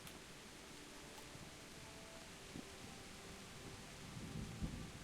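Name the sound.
thunderstorm with rain and thunder in the video game Kingdom Come Deliverance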